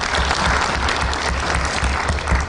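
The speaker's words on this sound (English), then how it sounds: "A round of applause," Dense, steady applause from a large audience at a Pan African youth convention, loud and continuous throughout, with a faint crowd murmur beneath.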